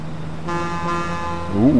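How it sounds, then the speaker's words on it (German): A car horn honks in Watch Dogs 2, a sustained harmonic toot beginning partway in and holding steady, near and fairly loud over low engine rumble, with a rising tonal sweep near the end. "Oh, schöne Hupe."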